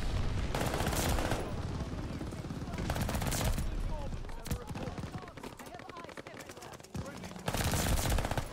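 An Armaguerra 43 submachine gun firing in Call of Duty Vanguard, with loud, rapid automatic bursts and scattered shots over several seconds and a voice talking underneath.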